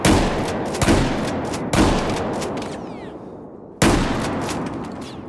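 Shotgun fire in the video game Battlefield 4, with several loud, booming blasts spaced about a second apart, each followed by a decaying tail, heard close and without talk.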